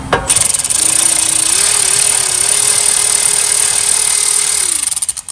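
An electric ratchet backs out the brake caliper bracket bolts on a 2018-2020 Honda Accord, giving a loud continuous motor whir that holds for about four seconds, rises slightly in pitch, then winds down and stops.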